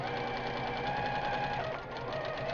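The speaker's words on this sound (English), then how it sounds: "And I sewed on the right side, and now I will put a seam on the left side." A sewing machine runs steadily while stitching a pillow seam along a crease, a continuous close whirring hum that dips briefly near the end before resuming.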